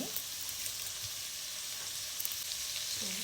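Garlic sizzles in a pan with chicken, a continuous close crackling hiss with small pops and faint stirring scrapes, quiet and steady throughout.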